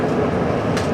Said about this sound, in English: there's the slowest train ever coming up